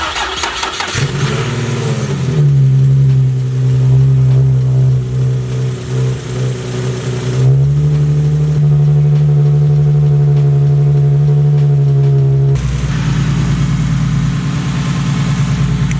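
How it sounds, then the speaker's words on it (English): A Nissan 370Z sports car with a cold air intake cold-starts, cranking and firing up, rising into a loud, deep, steady idle with a strong rumbling drone and a few shifts in pitch. "This car was idling loud. Holy crap. Do you guys hear that cold start?"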